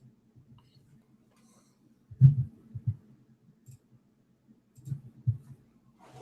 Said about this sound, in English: I'm getting all my clicking out of the way before we start.